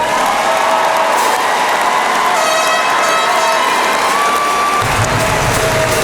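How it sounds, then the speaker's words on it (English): A crowd at a high school graduation applauds and cheers, a loud continuous roar of clapping mixed with whoops and raised voices, sustained throughout. "Applause."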